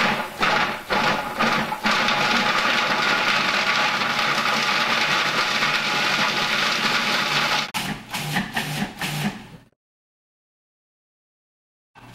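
A food processor fitted with a steel blade runs on meatball ingredients in a loud continuous whir, then several short pulses before stopping into silence.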